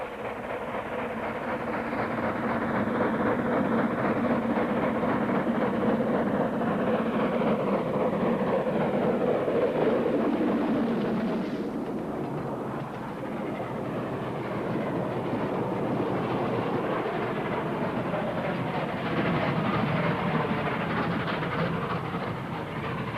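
A steam train rumbles along steadily on the Esquel branch in Argentina, its rhythmic clatter swelling then easing slightly midway before continuing at a constant, moderately distant level.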